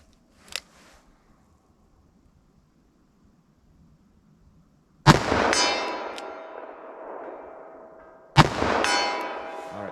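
Elmer Keith .44 Special revolver load fired outdoors: two loud, sharp shots several seconds apart, each with a long ringing decay, after a faint brief pop near the start.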